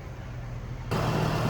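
Engine of a Chevrolet Trailblazer, which will only rev to 2,200 RPM: a low idle hum jumps abruptly to a louder, steady rev and holds there, close and with no talking.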